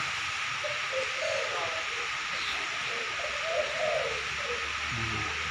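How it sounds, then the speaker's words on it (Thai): Doves coo in soft, rounded phrases at a bird keeper's place crowded with birds, repeating at a moderate distance over a steady hiss of background noise. "นี่นกเขามีเสียงเนี่ เกี้ยวหมดครับ"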